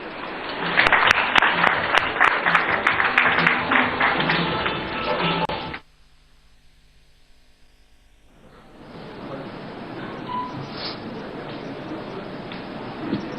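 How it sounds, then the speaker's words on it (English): A conference audience applauds to welcome a guest speaker, a dense burst of clapping that cuts off sharply halfway, then after a short quiet a softer wash of crowd noise returns. "A warm round of applause, please."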